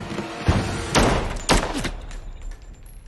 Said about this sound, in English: I love how the gun sounds in this movie.